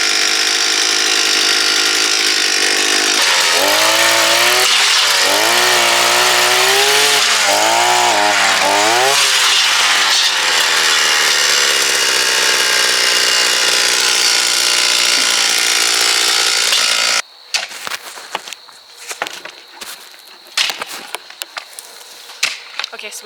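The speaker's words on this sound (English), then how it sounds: "Is this the one we used to drill our holes for our cabin?" A powered auger used to drill post holes for fencing and cabin posts at a rural North Idaho property, its engine droning loud and steady with rising and falling pitch before cutting off, followed by clattering and knocks.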